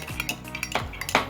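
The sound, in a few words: spoon stirring sweet soy sauce remedy mixture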